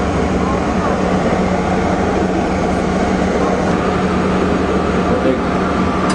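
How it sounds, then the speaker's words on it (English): Big diesel engines in a ferry's engine room, a loud, unbroken mechanical drone and hum close by, with a person talking faintly over it. "Big diesel engines."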